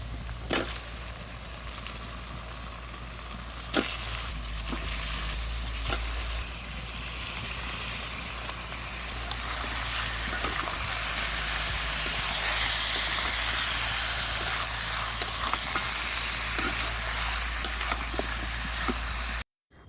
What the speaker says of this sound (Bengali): মোটামুটি আমার পেঁয়াজটা ভাজা হয়ে গেছে এবার আমি মাংসগুলো ছেড়ে দেবো